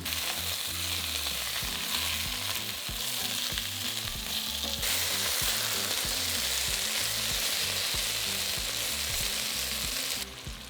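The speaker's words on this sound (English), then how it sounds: "Add the beef to the pan and seal and brown the meat." Beef searing and browning in olive oil in a pan for a ragu, a loud, dense, continuous sizzle with crackling pops throughout, close and steady, with no voices.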